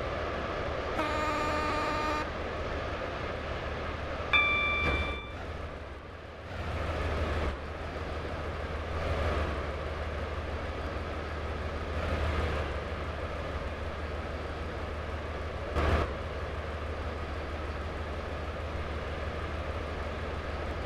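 A train running in the Roblox game Stepford County Railway, a steady low rumble throughout with a few brief chime-like tones early on and occasional short clunks.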